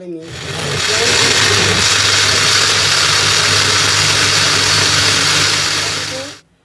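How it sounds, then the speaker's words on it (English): A small blender blending tomatoes and peppers whirs loudly and steadily for several seconds, its motor humming at a constant pitch before cutting off abruptly. "when I start blending it, it's gonna go down"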